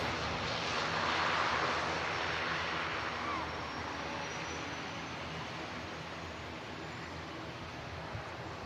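A Gulf Air Boeing 787 Dreamliner on the runway at Manchester Airport: a distant, steady jet engine roar that rises slightly early on, then settles into a broad, even rumble.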